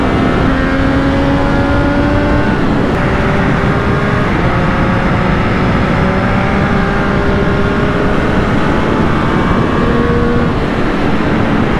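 Triumph Street Triple 765 RS, a 126-horsepower three-cylinder motorcycle, pulls hard under acceleration, its loud engine note climbing steadily through the gears without a break.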